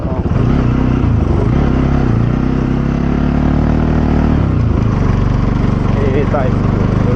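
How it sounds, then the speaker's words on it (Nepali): A motorcycle engine runs loud and close during a ride, with a steady throbbing drone and shifting pitch, under some talking and wind rumble. "ड्युक 200लाई टक्कर दिने बाइक हो।"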